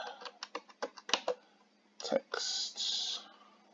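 Keys clatter on a computer keyboard in a quick run of distinct taps, then a brief pause and a couple of longer, denser keystroke bursts, close and clear with no talking.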